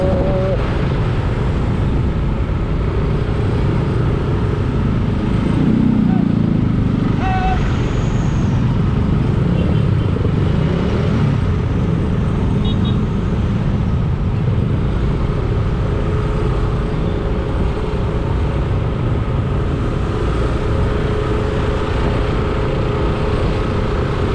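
Congested daytime road in Bali, steady near traffic rumble of cars, trucks and motorbikes crawling along, with a short horn-like tone and occasional air-brake hiss over the drone.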